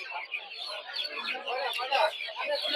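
Dense, continuous high-pitched peeping from many small tiger chicken chicks at a poultry and bird market, a busy overlapping chorus close by with no pauses.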